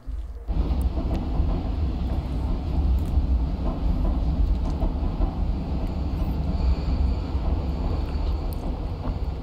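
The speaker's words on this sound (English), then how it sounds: "I'm gonna drive a train, guys!" A steady, loud rumble of a train rolling along in the video game Stray, continuous and unbroken with a low mechanical drone throughout.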